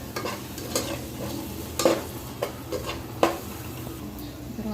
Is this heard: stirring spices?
yes